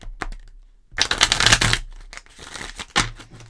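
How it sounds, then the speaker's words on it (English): A deck of tarot cards is shuffled close up, a short riffle burst of rapid flicking and ruffling, followed by softer card taps and slides. "Okay, let's do one proper shuffle"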